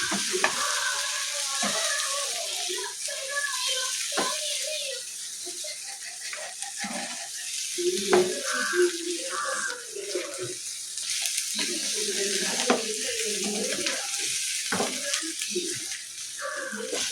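Pre-fried chicken for chicken kondattam gets stirred into sizzling masala, soft frying crackle under repeated scraping and clattering spatula strokes, close and continuous.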